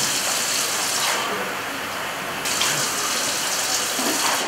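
Tap water runs from a kitchen faucet in a steady, hissing gush that fills the whole stretch without a break, with the flow shifting slightly partway through.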